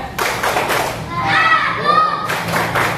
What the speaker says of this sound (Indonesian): kita tepuk anak soleh dulu